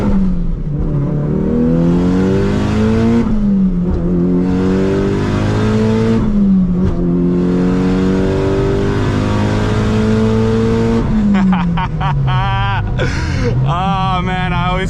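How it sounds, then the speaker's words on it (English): A Mitsubishi Evo 8 fitted with a short shifter accelerates hard, its loud engine note climbing in pitch, dropping at each quick gear change, then climbing again through several gears. "Let's see if I could do a quick baby pull so you guys can see me go through the gears."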